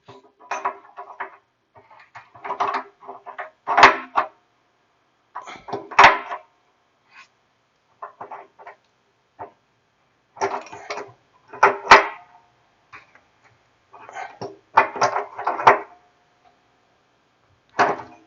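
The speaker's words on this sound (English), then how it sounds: "Then we'll come back with the heat element socket to tighten it up" A water heater element is tightened with an element socket, making close, sharp clicking and ratcheting sounds in short irregular bursts separated by silent pauses.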